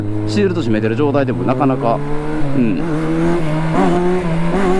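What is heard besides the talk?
Kawasaki Zephyr 1100 motorcycle exhaust with FCR carburettors and baffle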